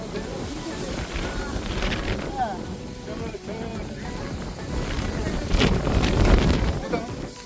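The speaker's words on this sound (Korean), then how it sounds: "바람이 진짜 많이 붑니다." Strong wind buffets the microphone on Dalmasan mountain in Haenam near the sea, gusting and roaring in waves that swell louder toward the end, with someone talking through it.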